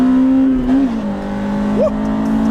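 A DC5 Acura RSX engine revs up through first and second gear, a steady droning tone that dips and climbs again with each shift, close and loud with no talk.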